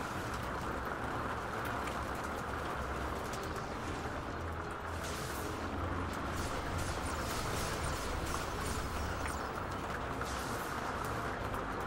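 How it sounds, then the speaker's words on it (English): Heavy rain pours in the video game Dungeon Defenders 2 as a constant, fairly quiet broadband hiss, unbroken and without speech. "Here comes the rain again."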